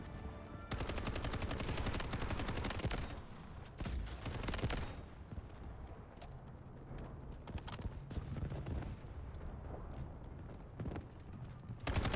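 Gunfire in the Delta Force video game, a rapid burst of loud shots at the start followed by scattered quieter shots and game effects over a steady low background.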